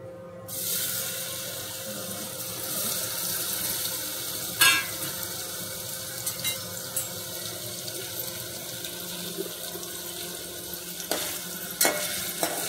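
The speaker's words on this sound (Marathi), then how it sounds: "बघा पनीर तळून घ्यायचं आहे." Paneer fries in about three ladles of hot oil in a pan, giving a steady close sizzle with occasional sharp clicks and spatters.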